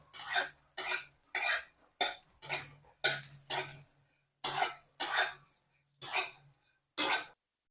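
Edible gum (dink) roasts in a pan while a spatula stirs it in about ten sharp scraping, rattling strokes, each loud and close with brief pauses between, over a faint low hum.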